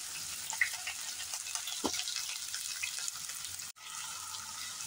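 Four medium onions, finely chopped, fry in oil for egg bhurji. A soft, steady sizzle runs throughout with a few faint stirring clinks.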